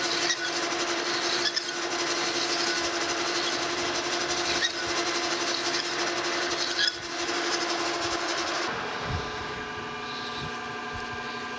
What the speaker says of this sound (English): Just kind of rolling this file. Until I get it like I want.